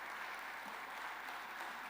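Audience applause at a large formal event honouring dignitaries, a continuous even roar of clapping from a big crowd, heard from a distance and sustained through the whole moment.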